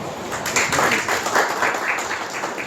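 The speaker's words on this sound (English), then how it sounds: "Let us extend a warm welcome to Mr. Dipesh Jain with a huge round of applause." An audience at a faculty development session gives a round of applause to welcome a guest speaker, an even wash of clapping with slight swells throughout.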